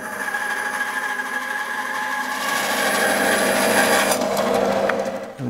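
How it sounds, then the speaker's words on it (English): An Axminster Craft AC2606B saw cuts a thin 1mm wood veneer, a steady, close whine and rasp that runs continuously and grows slightly louder, ending with a brief clatter as the cut finishes. "A veneer around about 1mm. You know, so obviously this saw is going to do what we need it to do"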